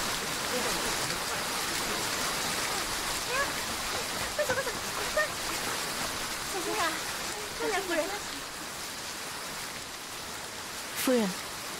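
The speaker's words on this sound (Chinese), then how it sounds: "要下雨了，我们躲一躲。" Rain falls steadily in a broad, even wash of hiss, with brief voice-like sounds faintly heard through it.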